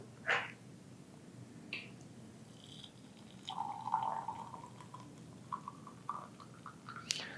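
Hot water poured from a kettle onto Zhengshan Xiaozhong black tea leaves, aimed along the edge of the vessel: a faint, steady trickling pour lasting a few seconds, preceded by light clinks of teaware in a quiet room.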